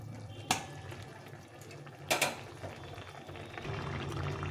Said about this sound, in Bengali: ভালো করে নেড়ে চেড়ে একটু ফুটিয়ে নিয়ে নামিয়ে দিতে হবে।